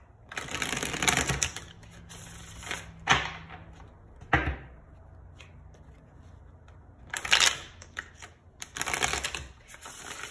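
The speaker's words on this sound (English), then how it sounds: "One more shuffle." Cards are shuffled in quick crisp bursts, riffles and taps separated by pauses, close by and moderately quiet with no voices.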